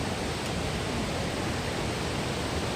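Tinuy-an Falls roars as a constant, loud, broadband wash of falling water, steady and unbroken throughout, with no talk over it.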